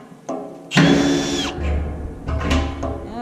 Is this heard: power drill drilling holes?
yes